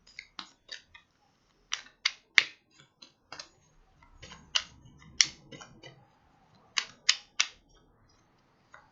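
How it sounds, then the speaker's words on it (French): Tarot cards being shuffled by hand, crisp riffling snaps and flicks in irregular bursts with short gaps between, close and clear against a quiet room. "Je suis désolée si c'est un petit peu long le temps que je batte les cartes."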